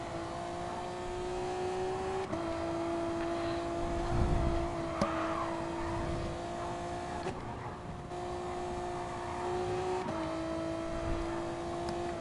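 Race car engine driving a lap in a video game, a steady close drone with harmonic whine that drops in pitch at a few gear shifts and keeps running throughout with no talk.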